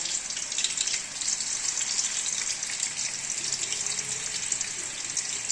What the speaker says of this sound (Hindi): इसमें ये कोफ्ते डाल देंगे, और दरमियानी आंच करके इनको हमने फ्राई कर देना